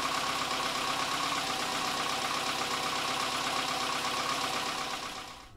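An Austin Metro's A-Series engine idles just after an oil change, a steady close mechanical chatter with a busy, slightly tappety rhythm that runs evenly and then fades away.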